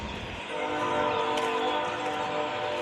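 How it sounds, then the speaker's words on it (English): A train horn sounds loud and sustained as a train passes close by near a farm yard, blaring steadily for a few seconds over the rumble of the rail cars. "Train was saying hi."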